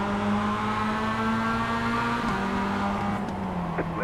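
A race car engine in the iRacing sim holds a steady high-revving drone under full throttle, its pitch nearly constant with a slight dip near the end, loud and continuous with no talk.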